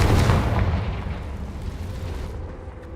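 A Confringo fire spell explodes in the video game Hogwarts Legacy, a loud close boom that rolls into a fading rumble.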